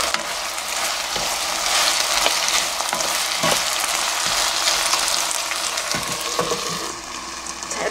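Garlic scapes stir-fried in a hot pan, with a steady close sizzle and repeated clicks and scrapes of the utensil turning them; no one speaks.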